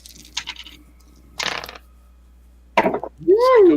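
Dice are rolled during a tabletop roleplaying game, with several short rattling clatters spaced apart, and a voice lets out a rising exclamation just after the last roll.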